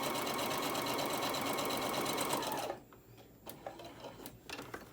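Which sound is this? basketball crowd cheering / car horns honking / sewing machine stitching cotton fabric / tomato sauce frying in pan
sewing machine stitching cotton fabric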